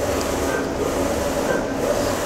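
A WER A1 ED6090UV flatbed UV printer with a 60 by 90 cm bed prints a tray of iPad cases, giving a steady mechanical hum and whir with faint periodic carriage sweeps.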